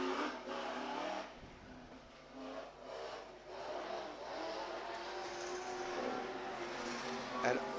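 A-mod speedcars race on a Kalgoorlie dirt track, their engines droning and surging steadily from mid-distance while a commentator talks over them.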